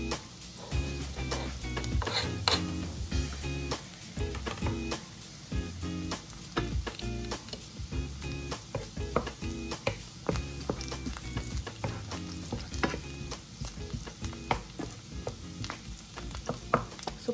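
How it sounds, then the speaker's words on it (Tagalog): Garlic sizzles and crackles steadily as it sautés in hot oil in a pot, with intermittent scraping and stirring, up close and continuous with no talk. "Tapos, ilagay na natin ang ating ahos"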